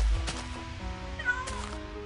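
A cat meows in the Minecraft video game, a couple of short tonal in-game meows close up, with light background sound.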